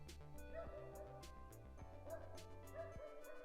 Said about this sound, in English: Ooh, we get a dog barking.